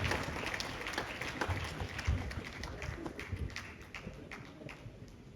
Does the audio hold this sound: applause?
yes